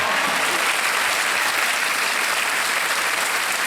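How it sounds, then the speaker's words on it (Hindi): A studio audience on the Kaun Banega Crorepati game show set claps in loud, dense, continuous applause that fills the whole stretch without letting up. "ताली बज जाए इनके लिए।"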